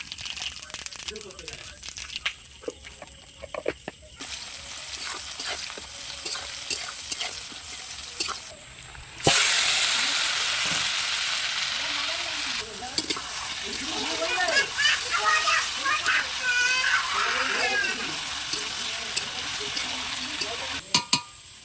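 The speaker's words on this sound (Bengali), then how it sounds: "মাংসটা এখন ভালো করে কষিয়ে নেব" Duck meat stir-fried in a pan over a wood-fire stove in a traditional Bengali village kitchen gives a continuous close sizzle with scraping and stirring, growing louder and busier partway through, with voices heard at times.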